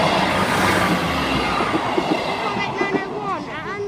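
Class 158 diesel multiple unit 158901 passing Beverley North level crossing: loud, close rumbling roar with rhythmic wheel clatter and rising squeal near the end, faint voices underneath.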